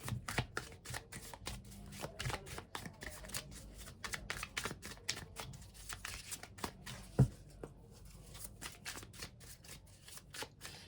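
Tarot cards are shuffled with a quick, steady riffling patter of crisp snaps for the whole stretch, fairly close and alone, with one sharper knock midway.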